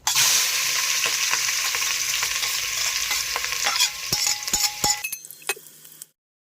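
Onions and green chillies fry in oil with cloves for a Bonalu-style chicken curry, giving a steady loud sizzle with scraping stirs and clinks of a spoon against the pan that fade out near the end.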